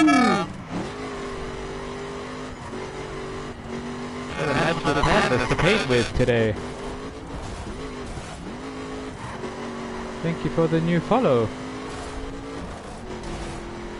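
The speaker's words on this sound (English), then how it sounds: "Today's game show theater is car racing." Race car engines from the video game The Crew rev and surge, rising and falling in pitch with a couple of louder bursts, while someone talks over them.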